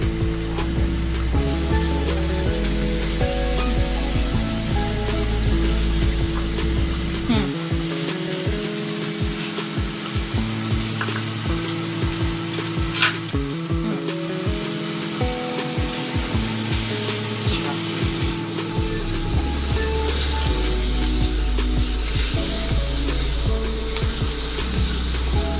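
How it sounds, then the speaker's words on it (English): Wooden spatula scraping and stirring chopped onion in a pan with a steady sizzle, repeated rubbing strokes over continuous background music. "Take a wooden spatula and mix it properly."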